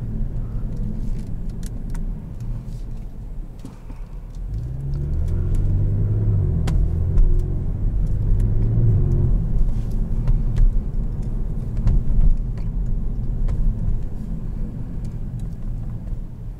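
A 2022 Kia Stinger GT1 accelerates on the road, its engine rising from a low cabin rumble into a strong, swelling growl heard from inside, then holding a steady drone at speed.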